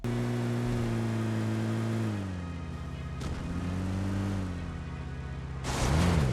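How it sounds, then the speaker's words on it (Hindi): A car in a battle-royale shooter game pulls away with a smooth humming engine whose pitch dips, holds, then rises again, ending in a brief louder burst; no talk. "फिर मैंने वहाँ से गाड़ी उठाई और वहाँ से निकल गया।"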